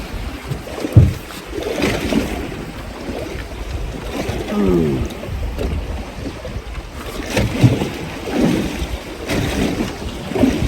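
A small skiff off Lewes, Delaware, towed through choppy water by a hooked shark, with steady wind buffeting and water slapping against the hull throughout, broken by occasional louder thumps and splashes.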